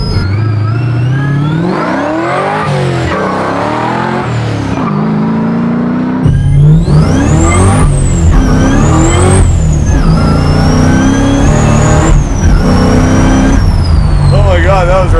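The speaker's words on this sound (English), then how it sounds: "Well, I can't wait to hear the blower noise when you drive it." Supercharged 427 Chevy Chevelle SS restomod making about 1,000 hp, its blower whine and engine revving loud and close while driving, with repeated rising and falling pulls and people talking over it.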